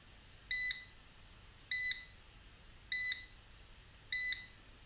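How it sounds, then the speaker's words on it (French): Erabros RS1 robot vacuum emitting four evenly spaced, short electronic beeps about a second apart, clear and alone against a quiet room. "il est possible de faire biper le robot si on ne sait pas où il se trouve"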